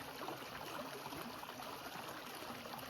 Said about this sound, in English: We got a first creek crossing.